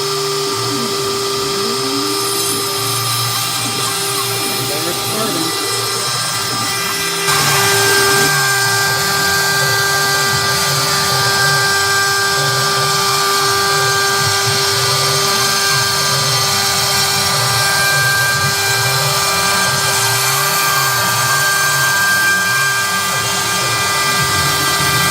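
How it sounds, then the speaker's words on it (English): A CNC machine drills holes and cuts ornaments with a continuous high-pitched spindle whine and a steady tonal hum, loud and unbroken throughout, with the texture shifting slightly partway through. "right now I'm just going to drill the holes, and I'll let it get started cutting"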